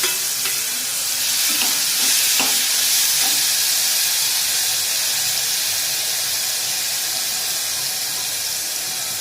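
Pumpkin sautéing in a pan for sago payasam gives a loud, steady frying hiss with a few scraping stirs near the start, close and continuous with no voices.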